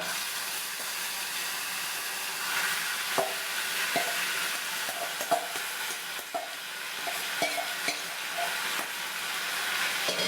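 Slivered raw mango drops into a hot pan with asafoetida and dried red chillies for mango thokku, hissing in a broad, steady sizzle broken by soft stirring knocks and scrapes.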